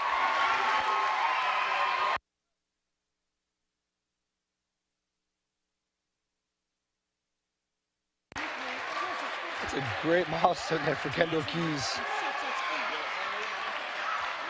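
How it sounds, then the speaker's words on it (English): Players at a high school girls basketball game clap for a teammate reaching her 1,000th career point, a crowd murmur and scattered cheering running under a commentator's voice, broken by a stretch of silence. "You see her team there clapping her on."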